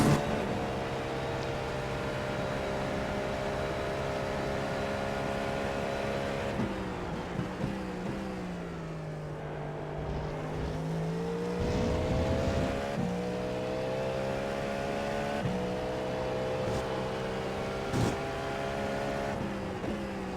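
A race car engine in the iRacing sim, a Cadillac V-Series.R at Road America, revs steadily and loudly throughout, its pitch shifting up and down with gear changes and brief dips, like a video game racer.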